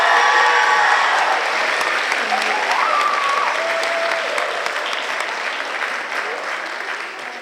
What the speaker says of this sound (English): them a round of applause one more time.